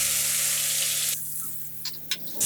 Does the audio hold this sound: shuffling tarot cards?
no